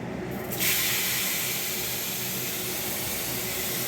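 Water lily stems go into a pan with fried fish heads. After a brief quiet moment, a loud, steady hiss and sizzle rises and holds close by, with no talking.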